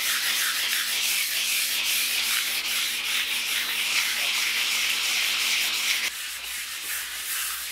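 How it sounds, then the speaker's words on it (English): A piece of plastic burnishes an earthen clay floor plaster that has dried to a firm but soft finish, giving continuous close, loud rubbing and scraping strokes with a brief change near the end. "It's soft enough to be able to burnish it with this piece of plastic"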